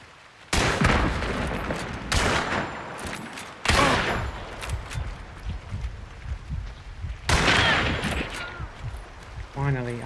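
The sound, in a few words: gunfire from the video game Hunt: Showdown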